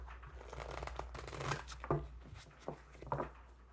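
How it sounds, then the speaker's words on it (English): Tarot cards shuffled by hand, a series of soft riffling and slapping bursts close to the mic, quiet and irregular with short pauses between shuffles. "Do 2 more shuffles."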